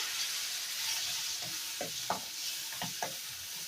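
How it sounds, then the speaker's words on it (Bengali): A spice masala with chopped tomato is sautéed in a pan, with a soft sizzle under several distinct spoon scrapes and stirring knocks that come in a loose rhythm, fairly quiet and close. "মশলাটাকে ভালো করে কষিয়ে নেব"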